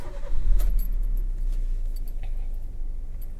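A Maruti Suzuki Ritz car is started with a jangle of keys, followed by the engine cranking and settling into a steady idle close by, with no talking.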